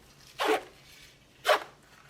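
Two quick zipper pulls on a Maxpedition Micro Pocket Organizer pouch, each a short rasping burst about a second apart, close and fairly loud against a quiet background.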